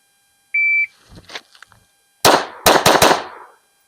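Four sharp gunshots from a handgun fitted with a TLR-1 weapon light, one shot, a short pause, then three rapid shots close together, loud and near, preceded by a single electronic timer beep and faint shuffling.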